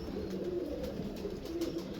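Pigeons coo softly and repeatedly nearby, a low throaty murmur continuing throughout with faint background noise, among kept pigeons.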